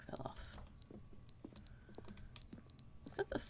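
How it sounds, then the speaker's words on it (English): A fire alarm beeps in The Stanley Parable: Ultra Deluxe, giving repeated high steady tones in bursts of two or three, fairly quiet against game noises and a few clunks. "Is that the fire alarm?"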